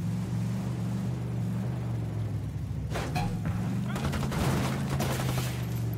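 Automatic weapons fire rapid, dense bursts in a Ghost Recon co-op fight against the Santa Blanca cartel, starting after a low rumbling lull and peaking in sustained loud volleys toward the end.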